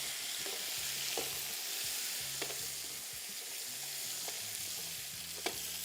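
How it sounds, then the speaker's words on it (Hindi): Beef frying in a pot for yakhni biryani, a continuous loud sizzle with a low stove hum and occasional stirring clinks, no talking. "ये आ गया इसमें बीफ, थोड़ा सा इसको किया फ्राई"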